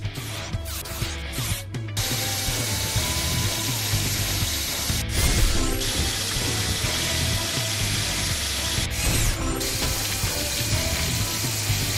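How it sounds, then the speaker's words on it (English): A loud mechanical grinding and whirring drone from a drill in the PAW Patrol The Movie Adventure City Calls video game, with ratcheting, gear-like texture running continuously and brief bursts of hiss layered on top. "Drill. Move this to place the drill."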